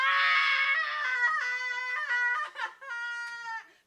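A crowd at an open-stage acoustic café night lets out a long, loud, wavering scream up close, which breaks into shorter, ragged cries before trailing off.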